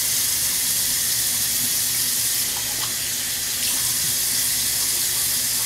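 Cold water runs steadily from a bathroom tap into a sink during a straight razor shave, a continuous close splashing hiss with no pauses or talk.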